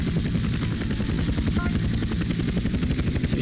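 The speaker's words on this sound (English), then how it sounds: "It's a big old chopper as well" A large helicopter in GTA San Andreas whirs with a loud, fast, rhythmic rotor chop and a continuous engine drone, steady and close throughout, without talk.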